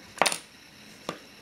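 A Dutch Queen Beatrix coin drops onto a hard surface: a bright ringing clatter of several quick bounces, then a single faint tap about a second later, in a quiet room.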